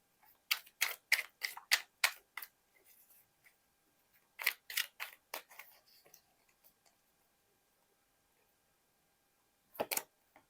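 Tarot cards are shuffled and drawn from a deck in a quiet room, making crisp clicking flicks in quick runs of several taps with pauses between, then a lone snap near the end.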